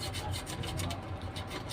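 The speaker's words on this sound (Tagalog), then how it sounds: "Lihain natin yan" Sandpaper rasps against the switch contact of a rice cooker that will not cook, a steady close-up scraping and rubbing that runs without pause.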